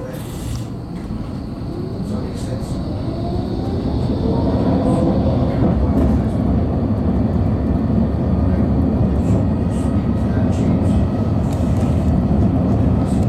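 A tram bound for Phoenix Park rumbles between stops with a loud, steady rolling drone and a rising motor whine, joined by sporadic clicks and rattles, with no talking.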